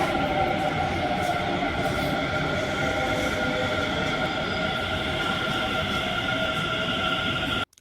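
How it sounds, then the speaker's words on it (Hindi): Metro train pulling into a station in Delhi, a loud steady rumble of wheels and carriages with a bright whine running throughout, cutting off abruptly at the end. "हमारी आ गई थी मेट्रो।"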